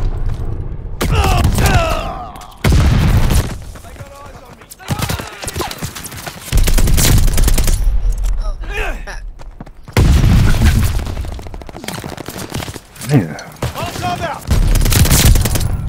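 Loud bursts of gunfire in Call of Duty: Vanguard, rapid automatic volleys and booming shots alternating with short lulls over a noisy battlefield, with voices talking in between.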